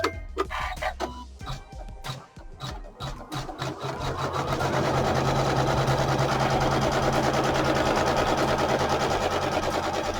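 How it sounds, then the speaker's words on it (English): Embroidery sewing machine stitching a haunted village quilt tile at 700 stitches per minute: sparse mechanical clicks at first, then a loud, continuous rapid whirring hum with a steady stitching rhythm, alone and close. "Now I am operating my machine at 700 stitches per minute."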